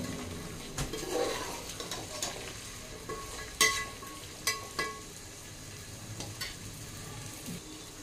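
Vegetables for a dum biryani (carrot, beans, cauliflower and peas) are stirred in a pan with a spoon, with a steady low sizzle and a few sharp scrapes and clinks against the metal. No one speaks.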